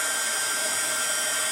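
Heat gun blowing hot air over embossing powder on a handmade card, a loud, steady close-up whoosh holding constant throughout with no talk.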